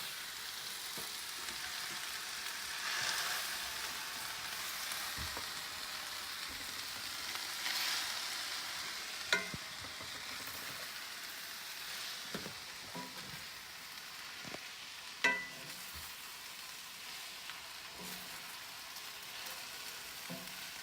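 Stuffed pepper filling with wilted spinach sizzles and fries steadily in a pan, with a soft constant hiss broken by occasional clinks and scrapes of stirring.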